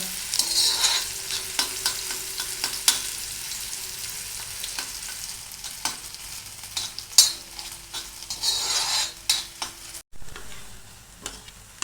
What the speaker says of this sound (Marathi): कांदा जिरे आणि कांदा तेलामध्ये चांगले खरपूस परतून घ्या